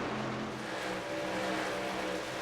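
Racing trucks roar around the Charlotte racetrack in an AREA Truck Series race, a steady, dense engine drone with a pack of trucks running close together, loud and continuous without any talk.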